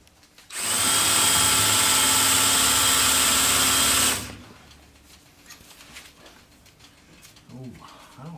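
A power drill boring holes in aluminum on an F100 truck runs loud and steady for about four seconds, then stops, leaving quiet workshop noise behind.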